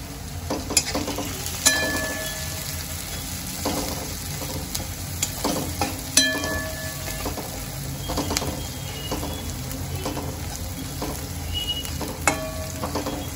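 Hing sautéing in hot oil for upma over a medium-high gas flame, with a constant sizzle and frying hiss and periodic clicks and scrapes of a spoon stirring in the pan, close and with no talking.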